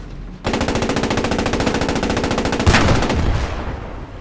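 A long, rapid burst of Panzer IV tank machine gun fire in the video game Post Scriptum rattles loudly and steadily, followed by a heavier blast and a fading echo.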